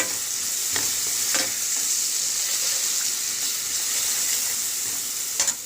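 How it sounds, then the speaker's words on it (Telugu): Ginger garlic paste frying with onions in a pan for spinach curry, stirred the whole time: a steady close sizzle with a few soft scrapes and clinks, no voices. "ఇప్పుడు ఇంకా దీంట్లో జింజర్ గార్లిక్ పేస్ట్ వేసేసి ఇది పచ్చి వాసన పోయేంత వరకు కలిపేసుకోవాలి"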